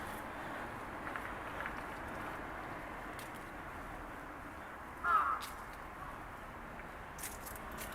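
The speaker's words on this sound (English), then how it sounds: "I hate these big crows." Large crows on a city street in Fukuoka, Japan, with one short caw standing out near the end over steady traffic and street noise; the call is brief and moderately close.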